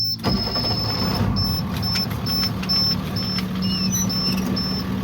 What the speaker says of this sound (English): Clutch down, shift into neutral, and start up the engine.